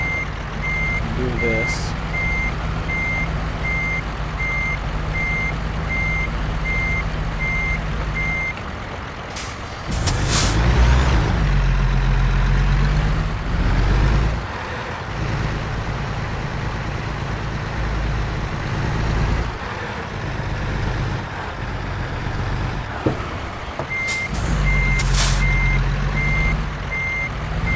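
A truck in American Truck Simulator backs up slowly with a trailer while its reversing alarm beeps in a steady rhythm. The engine rumbles and an air brake hisses between two stretches of beeping, and a voice briefly speaks.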